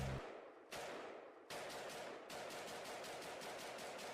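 Gunshot effects in a played rap track crack in a few sharp bursts, then in a rapid volley of repeated shots, fairly faint and with no talk over them.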